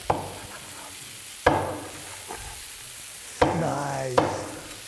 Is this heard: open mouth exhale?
no